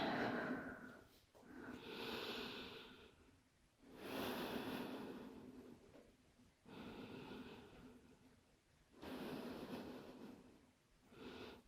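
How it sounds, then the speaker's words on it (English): Slow, deep breaths drawn in and let out while resting in child's pose during a mobility flow, with four or five long, breathy swells rising and falling every couple of seconds, close and fairly loud, with no talking. "Take a few deep breaths here."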